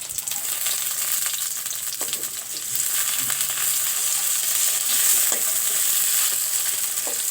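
Bay leaves dropped into hot oil in a pan while cooking beef with new potatoes. A bright, steady sizzle and crackle fills the clip up close, with occasional stirring clinks against the pan and no voices.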